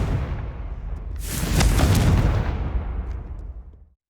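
In Hogwarts Legacy, Confringo fire spells burst in a loud, rumbling explosion that swells to a peak and then rolls off into a fading tail over a few seconds, with no talk.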